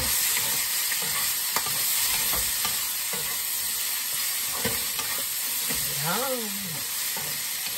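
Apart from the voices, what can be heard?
boiled squid stir frying in a pan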